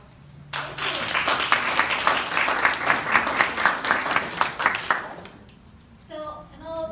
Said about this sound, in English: So we want to give her a big round of applause.